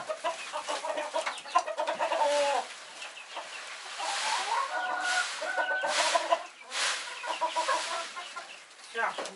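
Chickens cluck and squawk close by, with repeated clucking calls in bursts, a rooster among them and a voice speaking faintly.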